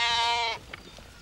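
A single sheep gives one nasal, wavering bleat close by. It breaks off abruptly, leaving faint background noise.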